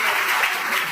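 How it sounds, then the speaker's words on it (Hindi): Brief burst of crowd applause at a school felicitation ceremony, a dense, steady patter of many hands clapping together. "बहुत जोर तालियों से लेते हैं।"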